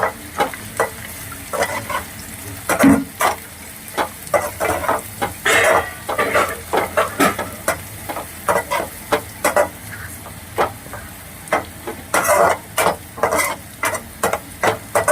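Chicken sticks and cashews fry in a pan over medium flame, sizzling steadily as a spatula scrapes and clatters against the pan in frequent, irregular bursts close by, with no talking.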